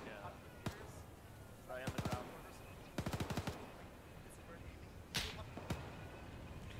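Gunfire in the video game No.4 Commandos, including a sniper's shots: sharp isolated cracks and a couple of quick rapid-fire bursts ring out over a steady low background of game ambience.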